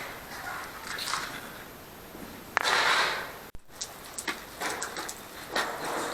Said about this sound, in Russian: Сегодня пошел дождь.